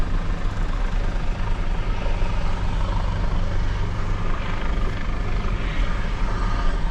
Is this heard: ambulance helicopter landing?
yes